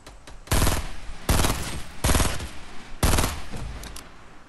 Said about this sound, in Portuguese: Tô levando tiro, ó.